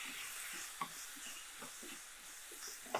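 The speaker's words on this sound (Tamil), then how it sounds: "இதுக்கப்புறம் உப்பு தேவையான அளவுக்கு, கொஞ்சம் கொத்தமல்லியும் போட்டு இதை நம்ம நல்லா வதக்க ஆரம்பிக்கிறோம்" Chicken masala with salt and coriander is sautéed in a pan: a faint, steady frying hiss with soft intermittent scraping and stirring taps, quiet throughout.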